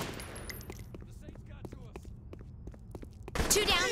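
Bursts of gunfire crackle in Saints Row: The Third Remastered as a string of sharp, moderately loud shots with scuffling steps between them, ending in a louder, denser blast of noise.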